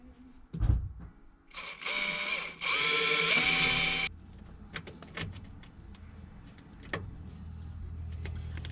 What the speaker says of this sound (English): Put some screws in. And then we screw it in.